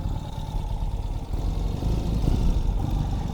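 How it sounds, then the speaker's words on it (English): A 2021 Ural Gear Up sidecar motorcycle engine idles with a deep, throbbing exhaust rumble, steady and close throughout. "Nice sound from the exhaust."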